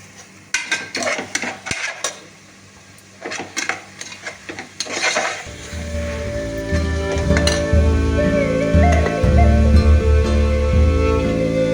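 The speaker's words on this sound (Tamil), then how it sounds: "இதோடு கொஞ்சோண்டு கொத்தமல்லியும் புதினாவும் சேர்த்து வதக்கிறோம்" Coriander and mint leaves sautéed in a pan for biryani, with repeated scraping and stirring strokes up close for several seconds, then giving way to a steady, louder humming drone.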